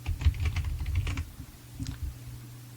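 Quick, light keystrokes on a computer keyboard, a short burst of close taps followed by a pause and a couple more clicks, with no talking.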